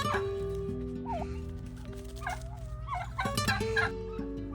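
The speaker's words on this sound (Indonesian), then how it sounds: "Di depan rumah aku ini ada namanya kalkun" A turkey gobbles in short, warbling bursts several times, close by, over a low steady background hum, in a village in Sarata Veche, Moldova.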